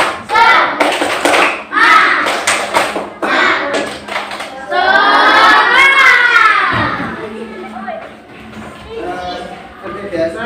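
A school class performs a 'tepuk semangat' spirit clap: a group of children claps sharp, rhythmic patterns in short bursts, joined by children's voices shouting and chanting along, close and loud in the classroom.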